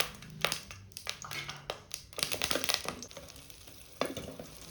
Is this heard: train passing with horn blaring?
no